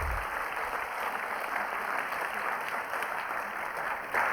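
A theater audience at a science festival math-magic show breaks into sustained, even applause for a volunteer, a thick continuous roar of many hands clapping at moderate volume, with no speech over it.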